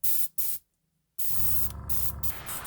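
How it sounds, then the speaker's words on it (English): Compressed air hissing through a Gaahleri airbrush fed from a compressor, close and steady, in several bursts: two short blasts, a silent gap, then a longer continuous spray with brief dips. "let's turn the air on the compressor on and let's just make sure that the air flows through it"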